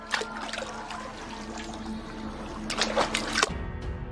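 Near, gentle trickling and splashing of river water as something dips in, with soft broadband sloshes and a few brighter bursts toward the end.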